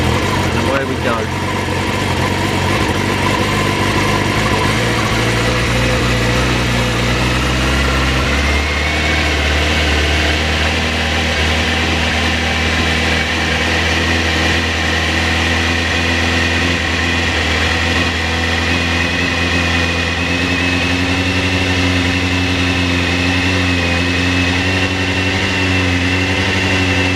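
A carburetted Suzuki GSX-R 750 motorcycle engine runs loud and close, its pitch shifting as it pulls away, with a steady engine drone throughout and a person talking over it.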